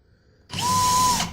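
A power drill spins up and bores through acrylic for a turkey pot call, a sudden loud whine that holds steady for under a second and then winds down, heard close with no talk.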